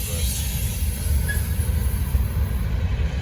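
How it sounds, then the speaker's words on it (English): A very long Norfolk Southern freight train rolls past close by, a loud continuous rumble of wheels on rail with a faint squeal, steady and unbroken throughout. "Monster train."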